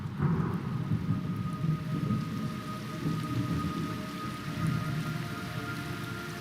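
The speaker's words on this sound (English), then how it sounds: "It's raining blood." Steady rain hisses and patters in a Metal Gear Solid Delta: Snake Eater scene, with low rolling thunder rumbling underneath throughout.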